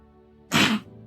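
A single sharp sneeze bursts out close by, short and loud against a quiet background.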